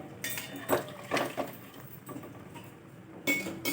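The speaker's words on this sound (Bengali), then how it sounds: "তারপরে ঢাকা দিয়ে দিচ্ছি" A metal lid set onto a cooking pot of simmering potatoes and pointed gourd curry, heard as a few close clinks and clattering knocks in short bursts against a quiet kitchen background.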